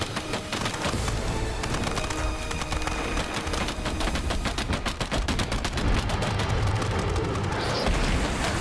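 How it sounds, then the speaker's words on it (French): Gunfire from the video game EarthFall rattles in dense, continuous automatic bursts, loud and unbroken throughout, with booming shots layered over steady game noise. "ça tire à travers!"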